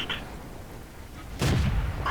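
A single heavy cannon boom from a Cromwell medium tank in World of Tanks, firing at a KV-1S. It lands close and loud after a low, steady rumble.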